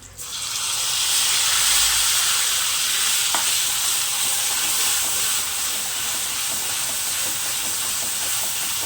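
Chili thecha hits a hot pan while making Mumbai-style vada pav, and a loud, steady broadband sizzle rises at once and holds throughout, close by, with no talk.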